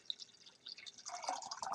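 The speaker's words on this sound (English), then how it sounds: "So then I pour in the substance." A substance is poured into distilled water to make crystal water, giving a faint, soft trickle and splash that grows a little fuller toward the end.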